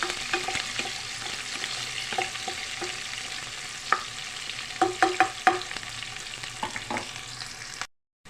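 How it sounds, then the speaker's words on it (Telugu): Curry leaves frying in hot oil for a potato fry, a steady soft sizzle with scattered sharp pops and crackles as the leaves hit the oil, quiet and close, no voices. "కరివేపాకు ఫ్రై చేసుకున్నామండి"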